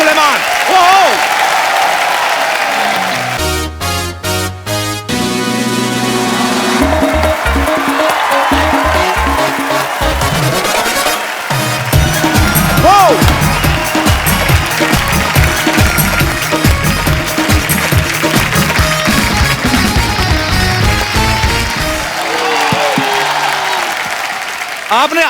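A studio audience at an Indian TV comedy show claps and cheers loudly and continuously as music plays, with a host's voice rising over the applause and crowd noise.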